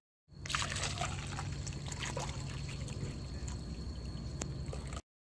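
Coolant trickling and dripping from an overheated Mazda Miata, a steady close liquid dribble with a low engine-like hum beneath and scattered faint clicks, continuous for about five seconds.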